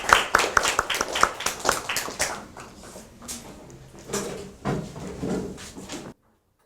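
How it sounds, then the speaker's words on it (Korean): Applause from a university service design class audience for a presenting team, a burst of dense clapping that thins and fades out over several seconds, ending in silence. "박수 한번 쳐주시고."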